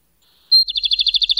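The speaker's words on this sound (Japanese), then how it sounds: "お姫様が小鳥のさえずりを聞いていると" Small birds chirping in a quick, regular run of bright, high tweets after a single sustained whistle-like note, close and clear against silence.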